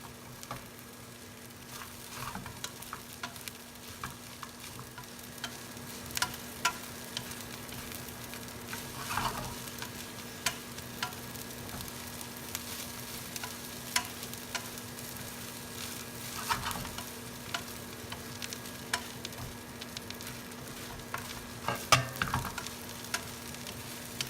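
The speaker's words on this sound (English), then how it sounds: "Just keep mixing it until everything mixes evenly." Baby spinach stirred into vegetable fried rice in a pan: a long, quiet run of soft sizzling with repeated scraping strokes and occasional louder clacks of the utensil, no voices.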